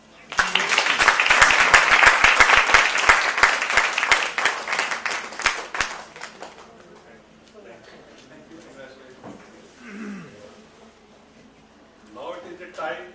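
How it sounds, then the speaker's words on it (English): Applause from a conference audience after a book release, a dense wash of clapping for roughly six seconds that thins out and fades, followed by quieter room noise and faint talk. "Please give big applause."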